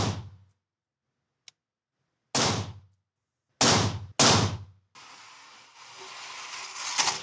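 AR-15 rifle shots at a range: three loud, sharp reports with quick decays, the last two close together, following a faint tick, then a steady hiss of wind or ambient noise.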